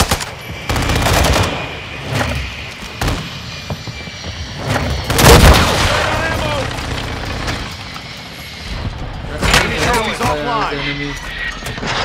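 Gunfire and explosions in Call of Duty, played with a TAQ-V battle rifle: loud, close bursts of rapid automatic fire and heavy booms come in clusters, with a droning engine-like hum and a player's voice between them.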